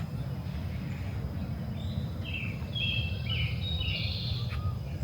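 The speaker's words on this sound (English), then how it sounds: "We got birds chirping." Birds chirp outdoors on a calm day: several short, bright calls come in quick clusters over a steady low background rumble.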